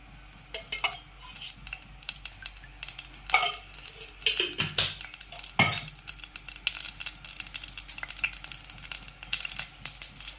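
Oil added to a pan for tempering a Khandeshi-style dal, with clinks and scrapes of a spoon against metal followed by a light sizzle heard up close.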